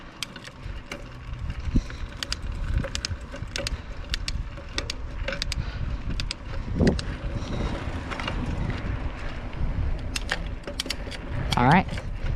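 Freshly lubricated bicycle chain spinning through the gears, a continuous light ticking and rattling, with occasional clicks and some talk.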